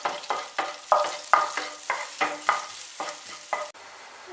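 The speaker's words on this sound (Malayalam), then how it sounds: "ബട്ടറിലേക്ക് കുറച്ച് വെളുത്തുള്ളി ഉണ്ടല്ലോ അത് നമുക്ക് ഇട്ട് കൊടുക്കാം ഇതും കൂടി ഇട്ട് ഇട്ട് നന്നായിട്ടൊന്ന് മൂപ്പിച്ചെടുക്കാം" Garlic sizzles in butter in a pan as it is stirred, a close, rhythmic series of about a dozen scraping stirs over a soft fry, ending abruptly in quieter sizzling.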